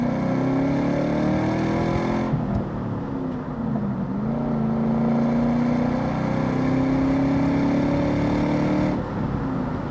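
A 2003 Ford Mach 1 with a 4.6 V8 and five-speed manual pulls hard through second gear, its engine note rising. A brief dip marks the shift into third, then it climbs again, loud and close from inside the car.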